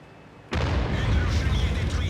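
A loud, abrupt artillery blast in a World of Tanks battle hits after a brief lull and rolls on into a heavy, rumbling roar, with a voice talking over it.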